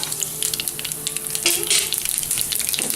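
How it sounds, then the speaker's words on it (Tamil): Mustard seeds, fenugreek seeds and red chilli crackling in hot oil for a Kerala-style mor kuzhambu, a close, busy sizzle with sharp popping bursts, steady throughout. "மஸ்டர்ட் சீட்ஸ் கொஞ்சம் கிராக்கில் ஆனோன்னா மேத்தி சீட்ஸ் போட போகிறேன்"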